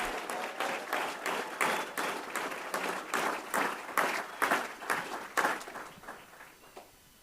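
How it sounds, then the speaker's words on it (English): Warm applause from a graduation audience honouring a Citizens Police Academy class, steady crowd clapping that swells in repeated waves and fades out toward the end. "let's all celebrate by giving a warm round of applause to Citizens Police Academy"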